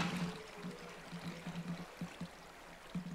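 Soft, steady stream of flowing water in Minecraft, faint and close, trickling and pouring with no voices over it.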